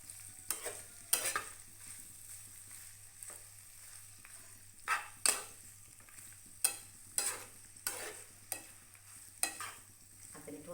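Pasta mixed with schezwan chutney is stirred in a pan, giving a quiet scraping sizzle with repeated sharp spoon strokes at an uneven rhythm, alone with no talk.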